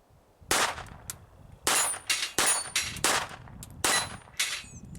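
Federal Champion .22 LR rounds fired from a Ruger SR22 pistol, about eight sharp, loud cracks in an uneven rapid sequence, each with a brief metallic ring.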